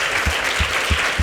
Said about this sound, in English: An applause for him, please.